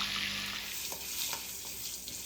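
Cumin seeds sizzling in hot oil with a tablespoon of butter: a steady, close, hissing frying crackle with faint pops, continuous and alone without talk.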